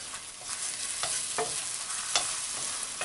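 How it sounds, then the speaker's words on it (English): Eggs are stirred constantly as they scramble in a hot pan, giving a soft continuous sizzle with a few light scraping strokes, close and fairly quiet. "I'm constantly moving the eggs around, right?"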